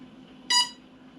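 A single short electronic beep sounds from the electronics of an RC B-24 bomber model, a bright tonal chirp lasting under a quarter second over a faint steady hum.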